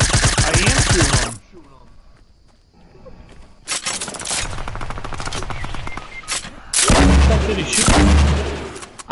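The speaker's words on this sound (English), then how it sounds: "I lit him up with the Thompson." Thompson submachine gun fire in a video game squad match: loud, close automatic bursts, a long rattling volley, a pause, then more heavy bursts near the end.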